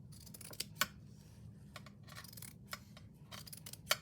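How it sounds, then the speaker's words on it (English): Scissors cut through material for a hard journal cover, giving a few crisp snips and clicks spaced irregularly over quiet room noise, close up and fairly soft. "So what I'm going to do now is cut this."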